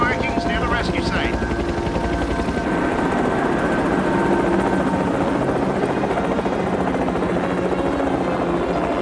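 A helicopter flies close overhead with a loud, steady rotor thrum and engine roar throughout, and voices speak faintly beneath the noise.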